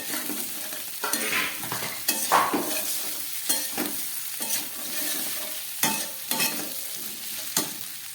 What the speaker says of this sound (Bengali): এবার দিয়ে দিচ্ছি ভেজে রাখা ফুলকপিটা।